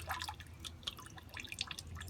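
Water drips and trickles while a bonsai tree is being watered: quiet scattered droplets landing irregularly over a low soft background, with no talking.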